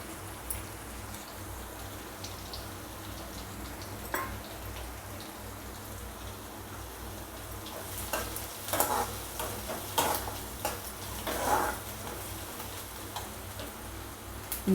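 Onion, ginger and green chili sautéing in a pan for a raw banana dish: a constant soft sizzle that grows busier toward the end, with crackles and a few stirring scrapes and no talking.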